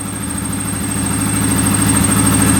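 A repaired ATV engine idles steadily with a low, even throbbing rumble and a constant high whine, holding close and loud without revving up, no voices present.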